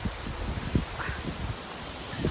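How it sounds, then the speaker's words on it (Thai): Strong wind gusts outdoors beside a house with flowering plants, a steady broadband rush with soft low thumps and buffeting against the microphone, fairly close and moderately loud, with no talking. "โอ้ยลมแรงจัง"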